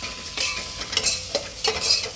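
Sambar masala and salt frying in a pan are stirred, a soft sizzle running underneath several quick scraping strokes of a spoon against the pan.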